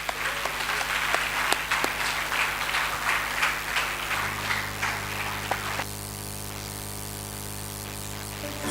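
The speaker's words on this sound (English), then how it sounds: "Let's give her a warm round of applause as she takes the stage." An audience at a business school inauguration ceremony applauds a dancer taking the stage, moderately loud clapping for about four seconds that fades as music begins and carries on alone.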